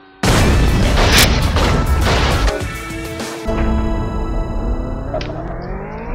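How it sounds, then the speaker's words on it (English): A car blows up in a Top Gear car darts video game, a Formula 1 car with a spike on the nose: a sudden loud boom followed by crashing debris, then a lingering rumble and a rising engine-like tone. "Nah, it's just going to explode the car."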